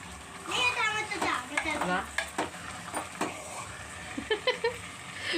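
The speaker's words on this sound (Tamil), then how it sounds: "இது நல்லா கிளறி விடணும் ஆனால் அடி பிடிச்சிடக்கூடாது" Carrot and beetroot halwa is stirred in a pan, a soft simmering sizzle broken by repeated spoon scrapes and knocks against the metal, fairly close, with a brief voice-like murmur at the start.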